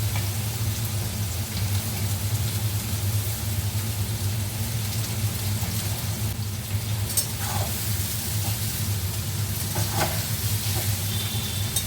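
Potatoes fry in a pan with a continuous, even sizzle over a low steady hum, with a couple of faint clinks near the end.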